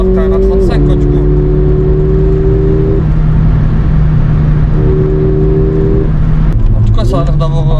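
A Mercedes-AMG A35 with a stage 1 tune drones steadily from inside the cabin, its engine note holding and shifting in pitch under continuous conversation.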